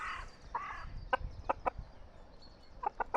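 Several hens and a rooster clucking in short bursts in a henhouse, with rhythmic clucks repeating near the start and end over a quiet coop background.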